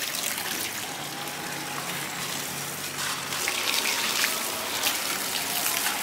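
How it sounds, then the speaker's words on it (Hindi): Water is poured onto plants growing in soil where bitter gourd seeds were sown, a steady close gushing stream that runs continuously throughout with no talk over it. "इसलिए मैं ही आ गई पानी डालने"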